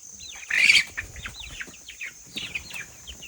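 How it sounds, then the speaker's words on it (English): A broody hen chasing her chicks, with a loud burst of flapping wings early on followed by a run of high, rapid chick peeps and chirps close by. "So Broody Hen chasing the chicks."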